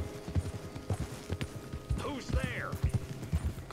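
Horse hooves clip-clop at a steady walking rhythm in Red Dead Redemption 2, close and fairly quiet, with someone talking over them and a brief whinny midway.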